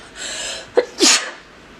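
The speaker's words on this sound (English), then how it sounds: "I think I sneezed right into the mic." A single sharp sneeze bursts close to the microphone, preceded by a quick inhaled breath, then quiet.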